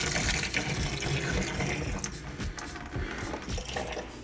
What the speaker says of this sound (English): Not sure if it's going to be a full shut off based on the water still coming out.